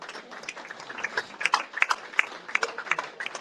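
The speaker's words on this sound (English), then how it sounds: "keep the applause going" Fans at a Swindon Town Football Club fans forum clap for the manager's introduction, a steady spatter of mid-loud applause from a modest crowd with individual claps standing out.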